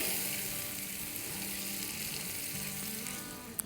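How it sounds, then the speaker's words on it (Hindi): Half a tablespoon of butter is worked into fully melted sugar caramel in a pan for butterscotch pudding, giving a soft, continuous bubbling sizzle with faint stirring, no voices. "तब इसमें हम डाल देंगे आधा टेबलस्पून बटर, अच्छे से मिला लेंगे।"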